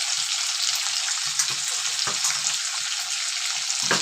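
Something frying in a pan gives off a steady, bright sizzle with a few soft knocks and scrapes, close by and fairly loud throughout.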